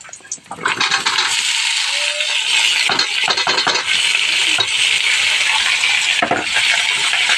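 Squash stirred and sautéing in a pan, a loud continuous sizzle close by with repeated scraping and clattering utensil strokes throughout.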